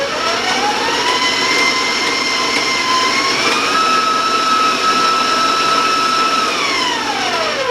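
An electric mixer creams oatmeal chocolate cookie dough at a raised speed, a loud steady motor whine whose pitch shifts upward partway through, with no talking.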